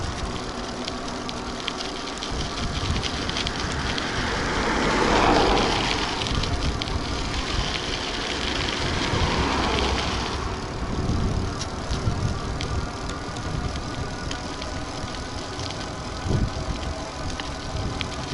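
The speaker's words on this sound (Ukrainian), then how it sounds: "Двигун з легкістю витягує під такі гірки." A steady 500W 48V electric bicycle motor whine under road and wind noise, rising and swelling midway as it strains climbing a hill, then settling back to a constant hum.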